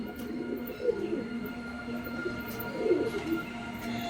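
Pigeons cooing softly around a loft in the evening, with young birds among the adults; a few low murmuring coos rise near the start and again later over steady background hum.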